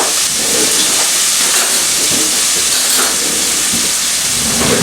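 Chopped onion hitting over-hot grease in a pan on a stove top, a loud continuous broadband sizzle and spatter that stays steady and close for the whole stretch with no talk.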